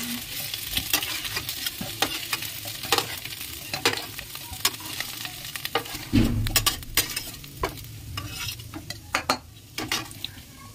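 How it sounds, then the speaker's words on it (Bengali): Potatoes fry in hot oil in a home kitchen pan, giving a steady close sizzle with frequent stirring clatter and scraping from a utensil and no talking. "এই আলুগুলো লাল লাল করে ভেজে নেব।"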